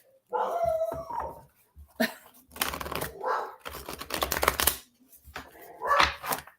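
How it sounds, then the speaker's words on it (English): A dog barks and yelps repeatedly nearby, in loud bursts with short gaps, with some indistinct voice sounds mixed in. "Okay, I thought he was done barking."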